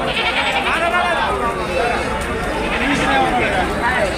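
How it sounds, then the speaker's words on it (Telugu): Spotted goats bleating at the Kunta goat market in Ongole district, with several wavering calls rising over a dense crowd of chattering voices and general market noise. "ఇవన్నీ చుక్కల మేకలు"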